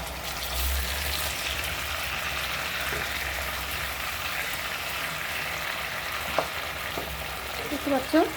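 Fish frying in a pan after being flipped, a steady close sizzle and crackle of hot oil, with a few sharp clinks of a utensil near the end.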